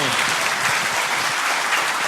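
An audience claps continuously at a Bollywood event in Uttarakhand, a dense, steady crowd applause heard up close throughout.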